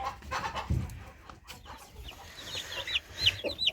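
Broiler chickens cluck nearby in short, scattered calls, with a rooster's sound among them over a soft farmyard background.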